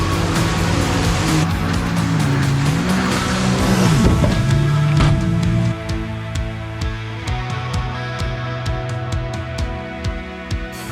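A KRX 1000 off-road vehicle pushes through cold, snowy trail conditions, its engine loud and close with a wavering pitch that rises and falls under strain, then settles into a steadier idle-like rumble, with no talk.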